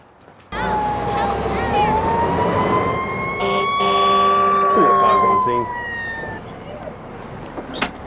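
A fire engine's siren starts abruptly and wails loudly, rising and falling, as the truck drives to a fire, with a steady engine rumble beneath.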